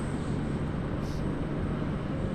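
A Q-Link Dash 8 turboprop rolls in along the taxiway at Sydney Airport, a steady, moderately loud broadband rumble with a faint high whine running through the short stretch, and no clear talk.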